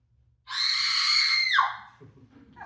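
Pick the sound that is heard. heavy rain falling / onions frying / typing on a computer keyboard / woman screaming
woman screaming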